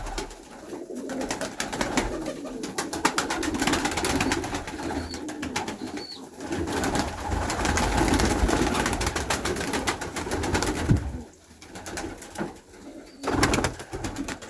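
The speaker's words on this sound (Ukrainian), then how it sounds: "Голуби ростуть, ось чубаті сидять." Pigeons, including crested ones, coo softly and repeatedly close by, their low rolling calls layered over scuffling, flapping and general background noise from the flock.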